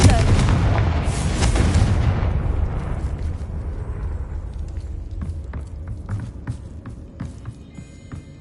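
In the Hogwarts Legacy video game, a Confringo blasting spell sets off a loud, booming explosion that roars at first and then fades into a long rumbling tail with faint scattered debris clicks.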